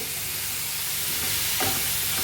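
Marinated mushroom masala mixture sizzling and being stirred in a hot pan, a continuous loud frying hiss with a soft scrape of stirring, no talk.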